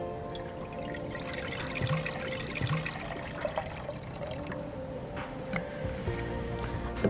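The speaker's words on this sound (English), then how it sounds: "I am adding 400 ml of water into the vessel." 400 ml of water pours steadily into a cooking vessel up close for an Indian rasam, a continuous splashing trickle with small bubbling bursts.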